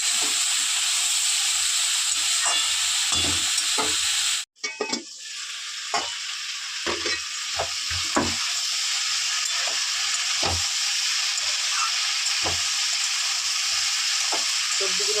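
Vegetables fry in a pan for a healthy vegetable dish, a loud, steady sizzle and hiss close by. It cuts out briefly, then returns with scattered scraping and clattering stirs.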